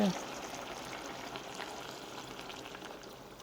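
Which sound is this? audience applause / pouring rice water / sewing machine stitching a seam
pouring rice water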